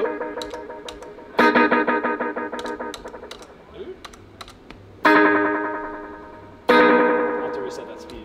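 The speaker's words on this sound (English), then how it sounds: "I do like these stabs of like repeats that kind of ring out" Guitar through a Timeline delay pedal on a touring pedalboard: three loud distorted chord stabs whose delayed repeats ring out and slowly decay, with quieter picked notes and taps between them.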